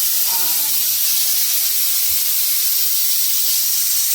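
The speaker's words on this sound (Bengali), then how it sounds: "আর এখন সিটি দেবে এই তো।" Steam hisses steadily from a pressure cooker whistle while duck meat cooks with ginger, garlic, cumin and chilli paste, a loud continuous broadband rush lasting throughout, with a faint voice at the start.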